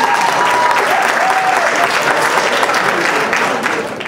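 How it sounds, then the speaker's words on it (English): Loud, dense applause from a comedy show audience fills the room steadily for about four seconds, easing slightly at the very end, with a few voices mixed into the crowd noise. "Clap it up for y'all."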